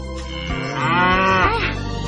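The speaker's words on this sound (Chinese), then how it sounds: "这个就是奶牛妈妈，牛奶就是他们产出来的。" A dairy cow on a farm gives one long, loud, close moo with a rising then falling tone, heard alone for over a second.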